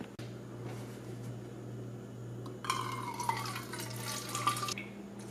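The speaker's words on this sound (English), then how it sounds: "I'll open this up and pour it into the can." A very cold drink is poured into a can in a backyard setting, giving a steady liquid fill of trickling and splashing that starts partway through and continues for about two seconds over a low background hum.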